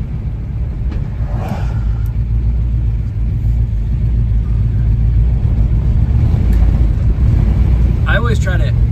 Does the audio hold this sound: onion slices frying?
no